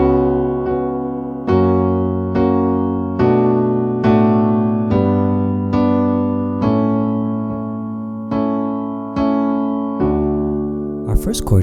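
Piano playing the chorus of a song as an accompaniment, with a steady series of sustained chords struck about once per second, clear and close, alone without talk.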